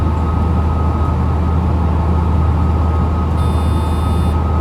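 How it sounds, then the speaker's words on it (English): LZB train protection beep in the cab of a DB BR 101 locomotive in Train Sim World, a steady high electronic tone lasting about a second, heard over the loud constant rumble and drone of the moving train. "LZB just beeped at me, but it seems to still be online."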